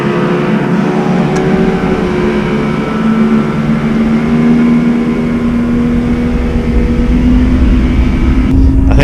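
A motorboat engine throttles down on the water, a steady loud drone with a shifting pitch that continues throughout, alone without talk.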